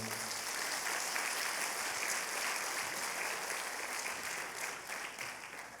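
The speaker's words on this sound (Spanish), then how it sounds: "Dale un aplauso al poderoso de Israel" A church congregation at a street worship service applauds together, a dense steady wash of clapping that holds for several seconds and thins slightly toward the end, heard from a moderate distance.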